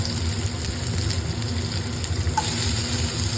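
Onions sizzle in hot oil for a tomato curry, a steady, dense frying hiss with a low rumbling undertone that continues throughout.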